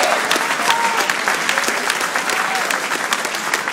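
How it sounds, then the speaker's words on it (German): Audience applause at an amateur boxing championship in Hamburg, a dense, sustained clapping from a crowd filling the whole stretch, loud and even with no break. "Und hier das erste Mal Beifall für alle beide."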